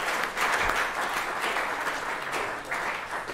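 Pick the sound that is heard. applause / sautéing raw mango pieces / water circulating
applause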